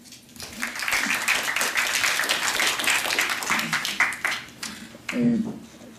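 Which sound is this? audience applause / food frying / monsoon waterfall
audience applause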